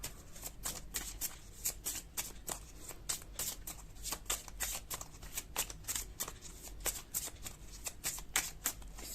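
Tarot cards being shuffled in a steady run of crisp riffling bursts, close and fairly quiet, repeating rhythmically throughout with no voices.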